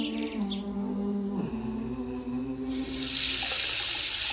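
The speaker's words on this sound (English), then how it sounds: "Completely wash your hands, including your wrist and between the fingers." Tap water runs steadily into a sink while hands are washed for wudu, a soft continuous splash that swells louder and brighter near the end, with faint tonal hum and no talk.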